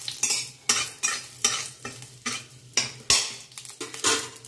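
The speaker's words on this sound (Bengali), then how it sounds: "ফোড়নটাকে একটু ভেজে নেব যাতে ফোড়নের গন্ধটা আসে।" Whole spices for a tempering sizzle in hot oil while a spoon scrapes and stirs the pan in quick, regular strokes, close and fairly loud, with no talking.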